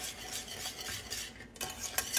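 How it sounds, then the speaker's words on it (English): Vegan cheese fondue is whisked in a hot pot, giving rapid rhythmic scraping and clinking strokes that pause briefly midway, close and fairly loud. "Just whisk it up"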